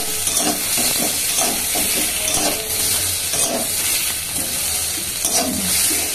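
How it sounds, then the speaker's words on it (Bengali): Boiled potatoes frying in a pan with oil, a steady sizzle and hiss throughout with occasional stirring scrapes, close and continuous. "এখানে আলুগুলো আবার দিয়ে দিচ্ছি, একটু ভাজা হয়ে যাক"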